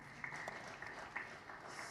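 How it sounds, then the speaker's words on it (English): A hall full of audience members applauding in a steady, even wash of clapping, faint and distant and with no break across the two seconds. "Now we'll have the whole hall clapping for everybody."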